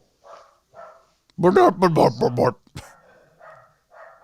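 Dogs barking nearby during a podcast recording, a few soft yips at first, then a loud cluster of rapid barks followed by fainter scattered barking.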